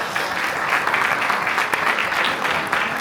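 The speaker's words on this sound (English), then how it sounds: "Give yourself a nice round of applause." An audience at a business conference in Barcelona applauds in a steady, dense wash of clapping that holds evenly for a few seconds without letting up.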